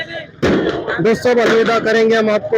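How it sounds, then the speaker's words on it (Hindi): Firecrackers burst during Diwali in a busy outdoor setting, with a sudden loud crack followed by someone talking over the noisy background. "शोर, बहुत ज़्यादा पटाखे फूट रहे हैं।"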